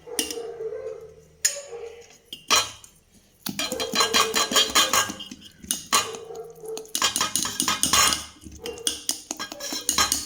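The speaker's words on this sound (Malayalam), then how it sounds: "ഈ വറുത്തെടുത്തിരിക്കുന്ന ചേരുവകളെല്ലാം ഇതിലേക്ക് ഇട്ട് കൊടുക്കാം നന്നായിട്ട് ഇതൊന്ന് മിക്സ് ചെയ്ത് യോജിപ്പിക്കാം" Roasted ingredients being stirred together in a bowl for idli batter, with a spoon scraping and clinking against the metal in bursts and short pauses, close and fairly loud, no voices.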